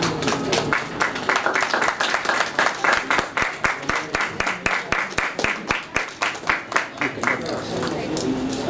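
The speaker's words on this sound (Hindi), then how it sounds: "तालियां बजती रहे हेमंत बिरजे जी के लिए, जोरदार तालियां हो जाए" A crowd at an Indian film awards and press media ceremony claps for Hemant Birje, a dense run of sharp hand claps falling into a rhythmic beat that swells and holds over background voices.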